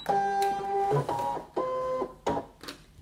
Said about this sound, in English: I'm going to load the mat into the machine.